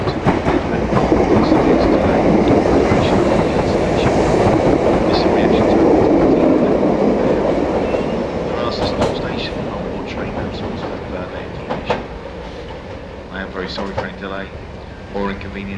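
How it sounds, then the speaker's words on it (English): A train rumbles and clatters through a station without stopping, loud at first and then fading, with the rhythmic clack of wheels and a public-address voice. "approaching train is not scheduled to stop at this station"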